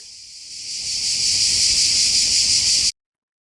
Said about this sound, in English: I've just put the volume of the cicadas back up to the normal level, just to give you an idea of what it was really like